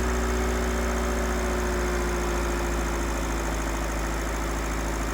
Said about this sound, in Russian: Прямо слышно, как турбина начинает дуть.